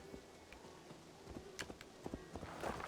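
Hooves of a horse clip-clop at a walk in a Viking video game, soft uneven steps that grow a little louder toward the end.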